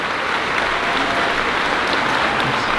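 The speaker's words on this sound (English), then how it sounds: "Let's give you a round of applause." An audience at a school's 5th grade moving-up ceremony claps steadily, a dense, even wash of applause that holds for the whole stretch with no break or voices on top.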